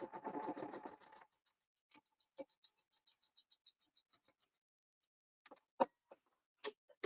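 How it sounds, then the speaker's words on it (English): A sewing machine with a quarter-inch piecing foot stitches a quilt-as-you-go zipper boxy bag in a short steady burst, followed by faint sparse ticks and a few louder clicks and knocks. "So I've got it stitched down."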